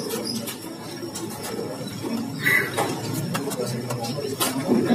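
Captive-bred oriental magpie-robin (murai batu) from Bojonegoro singing in a bird shop, with scattered chirps and short calls over a busy background of other cage birds cooing and faint talk nearby.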